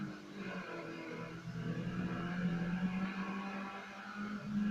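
A game car engine drones steadily while racing through a desert course in Need for Speed, with a sustained low hum rising slightly in pitch as it accelerates, fairly loud and continuous with no talk.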